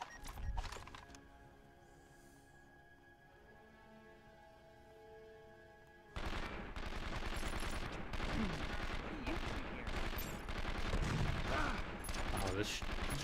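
Shotgun fire in the video game 24 The Game: dense, rapid bursts of blasts over chaotic in-game action, starting abruptly after a quieter opening stretch.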